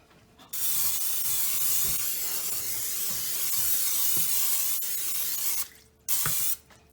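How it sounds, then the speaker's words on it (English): Cooking spray hisses steadily from a can into a bowl for homemade bread dough, one long continuous burst of about five seconds followed by a shorter second spray, close and loud. "So now we're going to spray our bowl."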